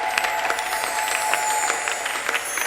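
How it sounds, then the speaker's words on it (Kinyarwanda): A church congregation at a women's convention claps hands together, a dense, steady patter of applause with rhythmic accents, filling the hall and continuing without pause. "let's clap our hand for our"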